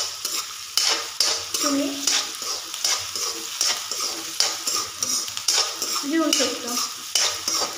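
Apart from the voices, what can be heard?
onion sautéing and stirring in a pan for dal tadka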